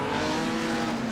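Stockcar racing at Stratford Speedway, New Zealand: a steady, loud roar of racing engines with a sustained tonal drone and gritty tire noise, continuous throughout with no talk over it.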